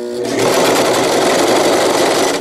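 A sewing machine runs steadily, stitching a zigzag seam on a zippered wetbag, with a loud, continuous close-up whir and rapid needle chatter and no pauses.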